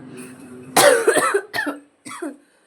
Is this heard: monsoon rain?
no